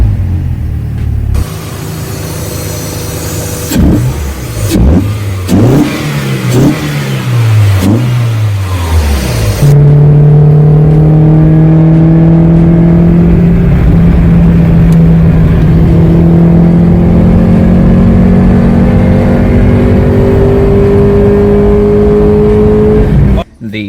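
A Mazda Miata engine with a custom intake revs loudly in repeated bursts, then settles into a rising, sustained roar, close and aggressive, with a sharp cutoff at the end.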